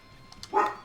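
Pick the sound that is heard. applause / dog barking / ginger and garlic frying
dog barking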